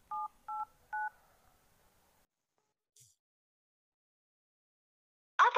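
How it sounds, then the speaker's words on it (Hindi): Jio phone keypad dialing: three clear DTMF tone beeps in quick succession, fairly loud and close, followed by near silence and a short burst of noise at the end. "अपने जियो फोन से डायल करें"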